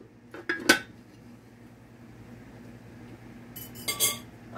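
A metal lid clanks onto a pot of simmering collard greens with smoked turkey legs, with a couple of sharp clinks early on, a quiet stretch, then another burst of rattling metal contact.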